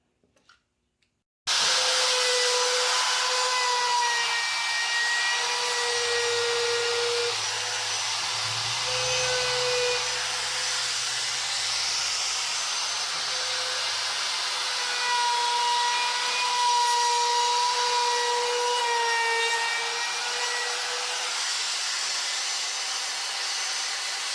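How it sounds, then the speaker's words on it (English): Router cutting into wood on a fall-themed craft project, a steady high-pitched whine running loud and close from start to finish after a brief quiet opening, with the tone shifting slightly as the bit moves through the cut. "That way I'm going to router right up to them marks."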